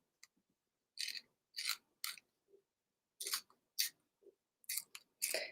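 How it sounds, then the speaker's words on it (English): Garden green paper torn by hand in a series of short, crisp rips, each a brief dry burst with quiet pauses between, close and fairly soft, no talking. "So we're just going to tear along here."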